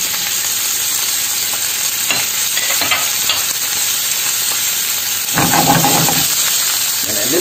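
Onion, garlic and pepper stir-fry in a hot pan for quick noodles, making a constant loud sizzle with light tossing scrapes, then a brief louder surge near the end.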